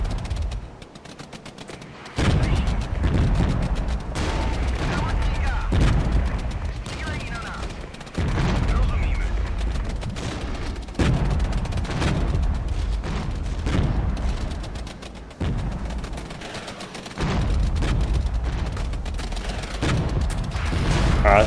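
Gunfire from army units in the video game Regiments, sustained rattling volleys and booms in long rolling waves with brief lulls, loud and continuous under a voice talking.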